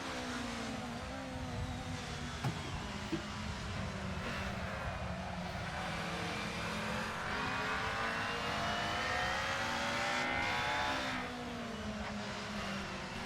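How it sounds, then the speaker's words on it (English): A white BMW DTM race car roars past at Mugello in a racing game, its engine note swelling and holding steady over continuous car noise from the player's own car, loud and close for most of the stretch. "Oh, there goes white BMW going past us."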